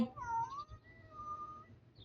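A cat meows faintly in a few drawn-out, wavering calls over a low background hum, with no talking.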